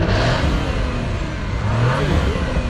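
An Audi RS5 drives past during a supercar group drive, giving a steady, loud engine roar and road whir that holds throughout with no break, with no voices.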